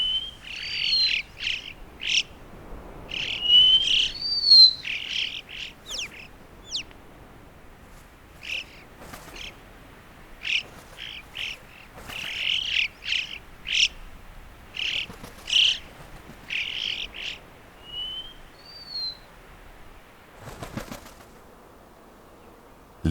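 Yellow-billed (Alpine) choughs call in open mountain air with bursts of short, sharp chirps and rising whistles. The calls come fairly close and repeat irregularly over a quiet background, with no voices.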